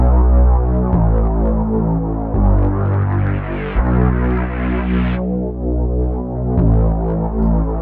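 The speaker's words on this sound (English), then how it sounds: "have a sawtooth wave here. I've got it in 9 voices for the unison." A thick, buzzy synth bass built from a sawtooth wave in nine-voice unison with chorus and distortion throbs loud and alone, holding sustained notes with shifting brightness as the filter opens and closes.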